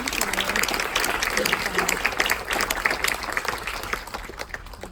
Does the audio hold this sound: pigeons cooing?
no